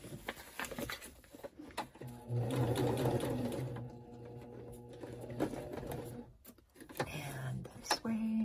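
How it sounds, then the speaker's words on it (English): Sewing machine stitching a rectangle through paper pages for a slit-and-slot scrappy journal binding, running in steady bursts with a sustained mechanical hum between brief pauses, close and fairly loud. "I'm just sewing a square, or sorry, a rectangle."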